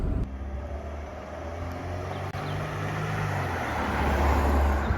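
A 1995 Mercedes 220CE pillarless coupe with an automatic gearbox pulls away smoothly, its low engine drone steady and close with a gentle rise in pitch as it gathers speed.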